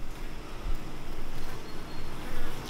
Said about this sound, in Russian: Пчелы бегают, я вижу.